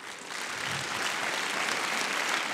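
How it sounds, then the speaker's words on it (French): Audience applause for a student after a talk on nuclear fission, starting softer and swelling into a steady, full burst of many hands clapping that holds to the end. "On peut l'applaudir."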